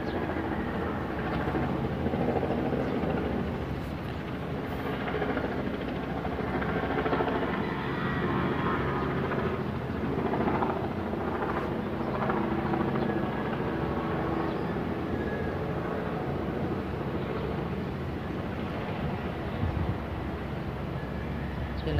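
A helicopter flies close by and comes in to land in hot weather outdoors, its steady loud rotor and engine roar rumbling continuously, with faint talk now and then.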